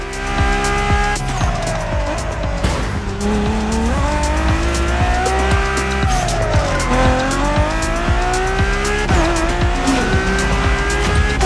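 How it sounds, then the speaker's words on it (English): A Ford Mustang Boss 429 classic American muscle car in The Crew Motorfest racing game roars loud and close throughout, its engine pitch climbing and falling through gear changes, with tires squealing and skidding along the way. "There's an absolute classic heading your way, a grail among collectors and Jim's greatest pride, the Mustang Boss 429"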